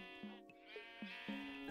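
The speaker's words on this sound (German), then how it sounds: "Füttern wir die Schäfchen." Sheep in the video game Minecraft bleat repeatedly, several short wavering calls overlapping in quick succession, close and clear with no talk.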